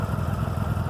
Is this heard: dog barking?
no